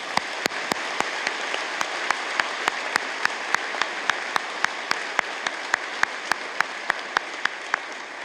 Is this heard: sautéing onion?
no